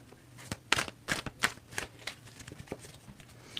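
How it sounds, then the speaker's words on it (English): Tarot cards shuffled by hand in a series of crisp riffles and flicks, close and moderately loud, with no talking. "So Emily, I want you to tell me when I need to stop shuffling"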